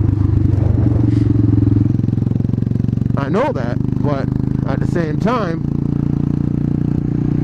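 A motorcycle engine runs steadily throughout with a low droning rumble and clattery texture, close and loud, while people talk over it.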